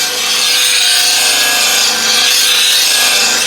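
Steel is sharpened freehand on a coarse 80-grit grinding wheel using a right-angle platform, producing a loud, continuous abrasive rasping hiss close up, with no speech.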